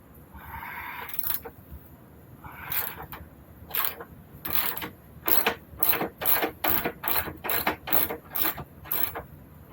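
A ratchet wrench works on a 17 mm nut and bolt on a Roadstar, with a series of close, clicking strokes that quicken into a rhythmic run of ratcheting bursts, with no talking.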